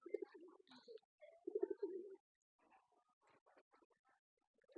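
Soft, low pigeon coos in short bursts, fairly close, followed by quieter rustling and faint chirps.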